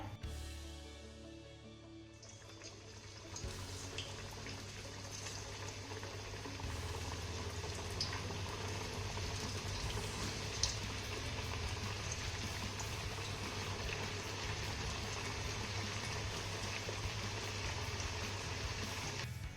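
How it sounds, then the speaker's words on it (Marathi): Vadi pieces made from raw urad papad and moong dal deep-frying in hot oil in a kadai over a medium flame, a steady bubbling sizzle that settles in after a short quieter start and continues alone. "आता यामध्ये आपल्याला वड्या सोडून कुरकुरीत होईपर्यंत तळून घ्यायच्या"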